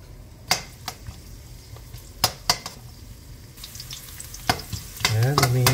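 Chicken dinuguan ingredients are stirred in a heated wok, a spatula scraping and tapping the metal in sharp intermittent clicks over a low sizzle that swells into louder frying near the end.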